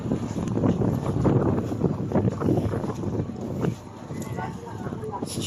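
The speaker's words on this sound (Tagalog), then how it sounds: "Init pa rin ang hangin." Hot wind blows outdoors near a dog park, buffeting the microphone with a loud, uneven rush that swells and eases, while people talk over it.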